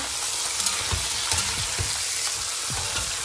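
Guinea fowl and pears browning in a hot pan make a loud, dense sizzle close up, with soft crackles and light scrapes of stirring throughout.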